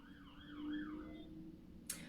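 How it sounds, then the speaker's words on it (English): An emergency vehicle siren wails in a rising and falling pattern as it passes at a moderate distance, fairly faint over a low steady hum, with no talking. "I'll just let that siren pass."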